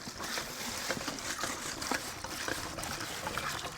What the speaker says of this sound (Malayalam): നല്ല വെള്ളം വരുന്നുണ്ട് അല്ലേ